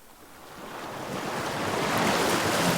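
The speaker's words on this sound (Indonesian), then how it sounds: "Nah, di sini ada Ocean Wave." An ocean wave sound effect from an audio library: a steady wash of surf swells gradually louder, broadband and hissing with a wind-like rush, with no voices.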